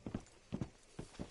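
Horse hooves clip-clop in Red Dead Redemption 2, with three quick pairs of soft hoof strikes in a steady walking rhythm, faint and alone.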